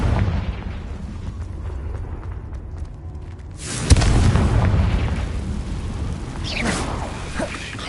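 A Confringo blasting curse explodes in the Hogwarts Legacy video game, a sudden loud boom that cuts through quieter ambient game sound and leaves a sustained rumbling, crackling tail.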